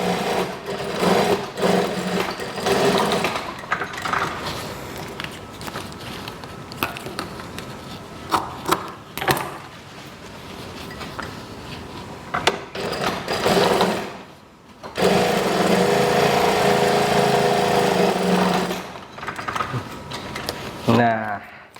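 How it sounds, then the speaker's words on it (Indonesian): A sewing machine stitches school uniform trousers in close, steady whirring runs broken by short pauses, with a long, louder continuous burst near the end. A person speaks during the quieter gaps. "sekarang kita jahitkan ke bagian badannya"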